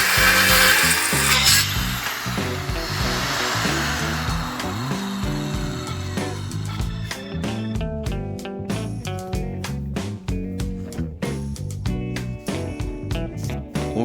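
A Makita circular saw cuts through a wooden batten on a workbench, whining loudly throughout, with the cut trailing into rattling and clicking as the blade winds down, over steady background music.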